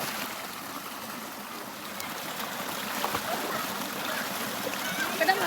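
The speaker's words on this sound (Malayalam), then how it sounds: "അവിടെ നിന്ന് ഇങ്ങനെ ഒലിച്ചു വരുന്ന വെള്ളമാണ്" Water from a nearby field flows along a shallow stream toward a waterfall, a soft, steady trickling and splashing heard close by and fairly quiet.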